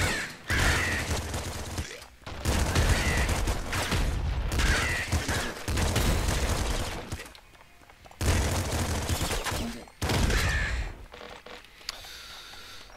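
Shotgun gunfire in the video game Nuclear Throne, a sawed-off-style weapon firing in loud, dense volleys of blasts that come in several long bursts separated by short gaps, with no talking.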